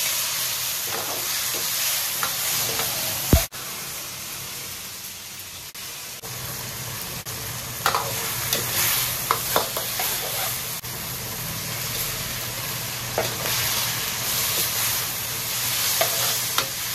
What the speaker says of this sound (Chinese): 番茄炒一下